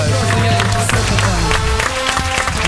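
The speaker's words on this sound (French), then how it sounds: "On va applaudir Camille." Applause from a radio studio audience, dense clapping mixed with a few cheers, with a background voice or music heard throughout.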